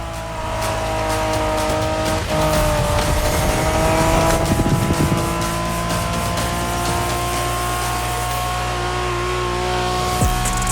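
A Honda NSX from the 90s in The Crew Motorfest video game, its engine droning steadily and loud throughout while the tires squeal and skid through a corner midway.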